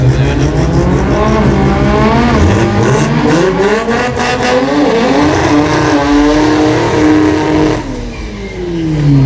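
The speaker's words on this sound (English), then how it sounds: "He's got a tough race against Patrick Long." Drag racing cars roar down the track at a Brisbane jamboree event, with loud continuous engine noise rising and shifting in pitch as they accelerate. No one speaks over it.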